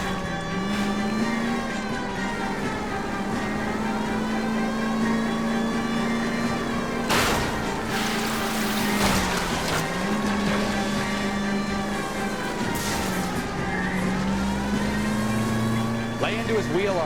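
Roaring car engine and squealing tires during a police car chase in LA Noire, loud and continuous with revs rising and falling, under shouted dialogue and a siren-like wail.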